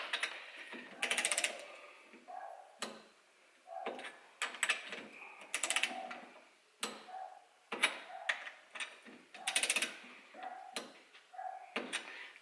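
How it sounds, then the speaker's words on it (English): A ratchet torque wrench clicks in repeated rhythmic strokes, close and crisp, while tightening the cylinder head of a Lambretta TS1 two-stroke scooter engine. "And that's our head torqued down and done."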